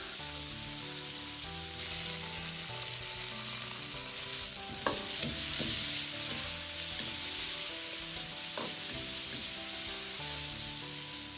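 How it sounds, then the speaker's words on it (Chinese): Long beans stir-fry in a hot wok after a splash of water, giving a steady hissing sizzle with a few sharp clanks and scrapes as they are tossed. "从锅边烹入少许的清水，这样产生的锅气可以加快豆角的成熟"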